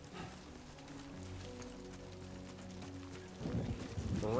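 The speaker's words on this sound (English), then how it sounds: "Great. Rain." Soft patter of rain in the video game Death Stranding 2, a faint steady hiss under low game music tones, growing slightly louder toward the end.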